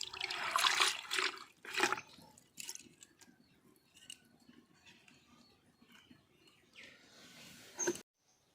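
Leafy greens are swished and rinsed in a basin of water, with splashing and sloshing strongest at the start, then softer dripping and faint movement before a final short splash.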